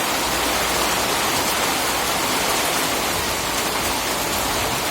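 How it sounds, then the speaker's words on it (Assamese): Heavy rain during a hailstorm pours down in a steady, dense hiss, loud and unbroken throughout, with no voices. "এয়া কিমান ডাঙৰ বৰষুণ পৰি আছে"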